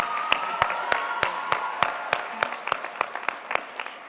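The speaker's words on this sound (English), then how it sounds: "Please give her a very warm round of applause." Applause for a high school valedictorian at a graduation ceremony, a modest group clapping with distinct, evenly spaced loud claps standing out over a softer patter, steady for several seconds.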